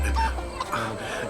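Chicken at a wedding house giving a short, close cluck or two, with a faint voice in the background.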